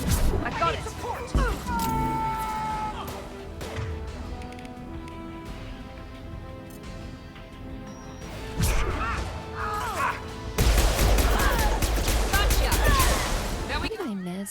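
Rifle fire in the sci-fi shooter Mass Effect 2, sharp shots and impacts mixed with game music and battle noise, rising into a loud burst of fire near the end, with voices talking in between.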